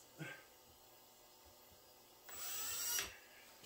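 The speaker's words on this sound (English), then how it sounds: "I will pre-drill that hole just ever so slightly so there's no wander." A power drill briefly pre-drills a screw hole in a wooden drawer front, a short close whirring burst near the end that rises and cuts off, after a quiet stretch with a faint knock at the start.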